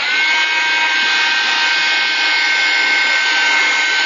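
A hair dryer blows steadily and loudly at close range, drying a handmade paper doll artist trading card, a constant airy roar with no pauses.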